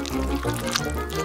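Sprite poured into a glass smeared with strawberry syrup in a home kitchen, a steady close liquid trickle and fizz running throughout the short moment with a faint voice underneath.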